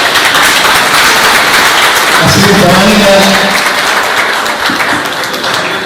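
Audience applause at an awards ceremony honouring journalists in Villa Ángela, a steady broadband clatter of clapping running throughout while a presenter speaks over it.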